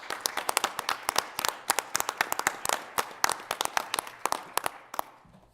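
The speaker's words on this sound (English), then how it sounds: "let's give them a round of applause" Applause at a city council meeting in Temecula: a small group clapping unevenly in sharp individual claps that thin out and fade near the end.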